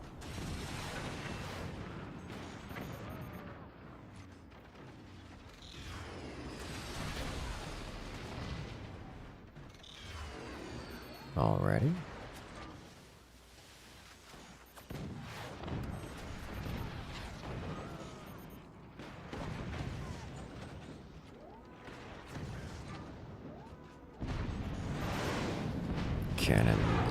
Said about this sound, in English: Cannons are flying.